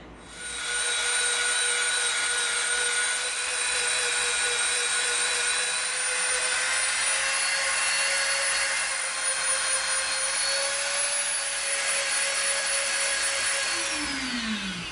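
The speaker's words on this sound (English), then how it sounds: "So we're going to get the Dremel out and we're going to have at it." A Dremel rotary tool grinds EVA foam with a sustained high-pitched whine, loud and close, holding steady for the whole stretch and winding down at the end.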